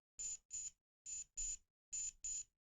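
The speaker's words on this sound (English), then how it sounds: "That was the alarm, I think, going off there." An LED clock kit's alarm buzzer beeps in three pairs of short, shrill, evenly spaced tones with silent gaps between them, clear and alone.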